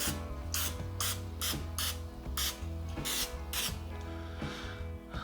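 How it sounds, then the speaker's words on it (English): Several short bright hissing bursts of a cooking oil spray can over chicken, spaced irregularly over a low humming background, fairly close. "And we'll hit the other side with some spray."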